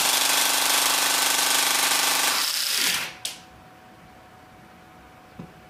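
An APS V2 airsoft gearbox runs at high RPM, a loud, dense mechanical whir close by that cuts out abruptly after about three seconds, followed by a faint rattle and quiet.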